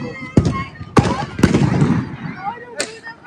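A butterfly firecracker set off for Diwali gives four sharp, loud pops spaced unevenly through a short burst, with crackling in between and voices talking nearby.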